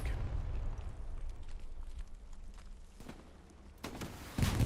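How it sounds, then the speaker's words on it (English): A rocket strikes a Panzer tank in the World War II shooter Hell Let Loose, with deep rumbling blasts and low booms up front, then a sharp burst near the end and a heavy low thud closing out the moment. "Panzer forward takes a rocket from Big Vivo"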